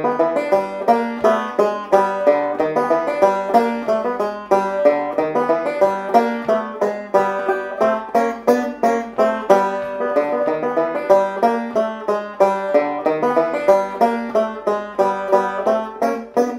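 Bright plucked five-string banjo notes roll along in a steady, rhythmic stream of picked chords, close and clear with no voices.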